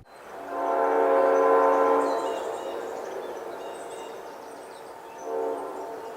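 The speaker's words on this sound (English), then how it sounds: "I like the sound of an Amtrak-tuned K5LA air horn rolling into the night" An Amtrak-tuned K5LA multi-note locomotive air horn blares in a long chord, fades, then sounds again briefly near the end, with faint rail rumble underneath.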